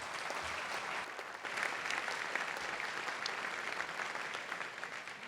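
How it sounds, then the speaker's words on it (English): Sustained audience applause at a presidential welcome event, a fairly soft, distant wash of many hands clapping evenly without speech. "I appreciate the applause"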